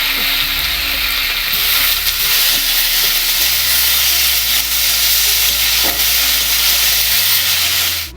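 Tomatoes hit hot oil already crackling with panch phoron, bay leaf, and dried and green chillies, setting off a loud, unbroken hissing sizzle with faint stirring knocks up close.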